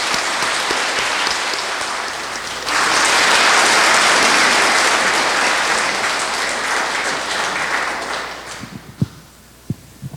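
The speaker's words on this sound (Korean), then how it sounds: "큰 박수로 환영해 주시기 바랍니다" An audience at a Catholic parish Advent lecture applauds to welcome a priest: a dense, steady clapping that swells after a few seconds, holds for several more, then fades out with a few scattered thumps.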